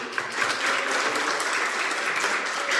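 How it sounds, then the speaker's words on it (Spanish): Steady, dense applause from a church congregation, sustained evenly throughout without any talking. "Un aplauso a Jesús, gloria a Dios."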